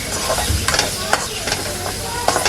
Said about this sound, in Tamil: உப்பு சேர்த்து வதக்கிக்கோங்க